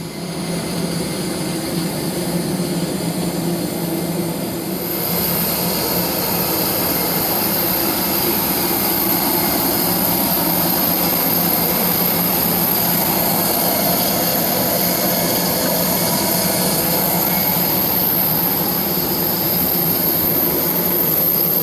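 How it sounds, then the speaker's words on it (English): Jet engines of a 14-year-old Jetstar Airbus A320-200 running as a steady, loud, continuous roar with a broad hiss that holds unchanged throughout, without speech. "Our aircraft today is a 14-year-old Jetstar A320-200"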